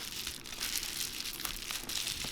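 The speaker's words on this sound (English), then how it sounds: "And it's popping right now. The glass is popping." Cracked glass on an iPhone 7 Plus screen crackles and pops as a pry bar lifts it, a steady close crinkling and crunching with sharper snaps throughout.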